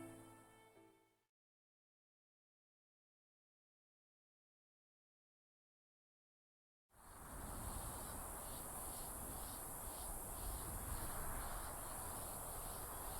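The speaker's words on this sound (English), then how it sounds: "The downpour of cicada cries continues unabated." Cicadas buzzing in a forest in the video game Lost Odyssey: a dense, loud, continuous shrill drone with pulsing rhythm that starts abruptly after a stretch of silence and carries on steadily.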